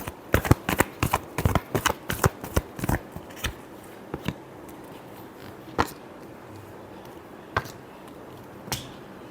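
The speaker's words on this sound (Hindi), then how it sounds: "Last shuffle." Tarot cards are shuffled by hand in a quick run of sharp riffling snaps, dense at first and then thinning to a few isolated flicks, close and fairly quiet.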